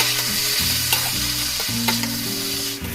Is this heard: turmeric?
yes